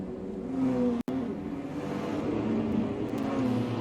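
Toyota Supra race car engine in a racing game on the Long Beach street circuit, a steady loud droning roar with a brief dropout near the one-second mark, continuous and close.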